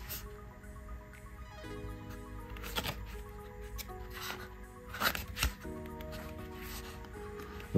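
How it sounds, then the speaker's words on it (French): Quick riffling of paper pages as an 88-page French-language book with many photos is flipped through, a continuous soft fluttering with a few sharper page slaps near the end, fairly close and moderately quiet. "Alors je vais vous le feuilleter vite fait."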